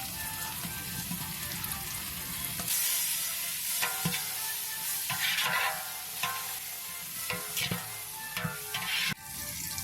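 Garam masala stirred into onion and tomato frying in a pan for Kerala-style beef dum biryani: steady close sizzling with repeated scraping stirs and occasional clinks, no voices.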